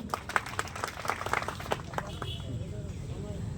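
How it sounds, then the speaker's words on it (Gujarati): An audience applauds a speaker at a gathering, with many hands clapping in a brisk, dense burst that thins out over a few seconds while voices murmur underneath. "ફરી એકવાર જોરદાર તાળીથી વધાવી લેશું"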